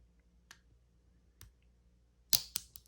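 A lock pick working the wafers of a lockout-tagout wafer lock, giving a few tiny, sharp clicks spaced apart, the last pair at the end louder and close together, heard alone in a quiet room.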